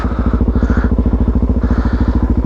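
Suzuki DRZ400 motorcycle ridden off-road on worn tyres, its single-cylinder engine thumping in a steady, rapid, loud pulse throughout, with no talking.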